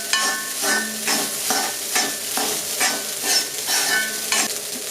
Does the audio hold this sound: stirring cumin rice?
yes